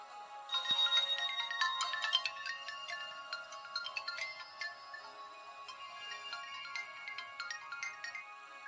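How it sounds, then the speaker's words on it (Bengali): A mobile phone ringtone plays a bright, repeating electronic melody for several seconds, fairly close and steady, with no voices. "মোবাইলে একটা ফোন এলো"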